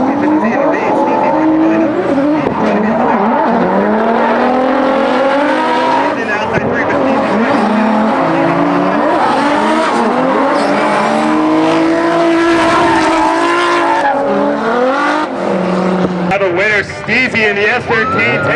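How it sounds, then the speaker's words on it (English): A Nissan S13 and a Nissan 350Z run a drift battle at Willow Springs Raceway, with loud, continuous engine roar and tire noise lasting throughout under a commentator's voice. "Steezy in the S13 takes the win, taking out Shelly in the 350Z"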